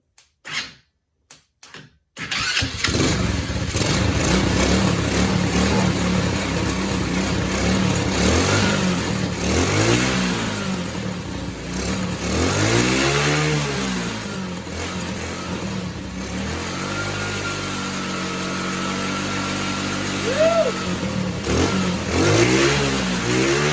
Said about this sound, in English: get on the throttle a little bit. And let's hit it.